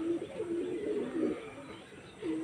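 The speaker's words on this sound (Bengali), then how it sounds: "সকালবেলা করে পায়রা ওড়ান" Pigeons cooing at a rooftop loft in the morning: soft, low, rolling coos repeating in a few phrases over a quiet background, fairly close and gentle.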